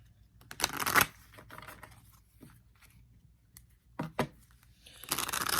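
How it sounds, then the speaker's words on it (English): Stiff, firm tarot cards are shuffled in separate stacks, in bursts of loud crisp riffles broken by quiet pauses, close by. "The cards are really firm, so I have to do it in stacks."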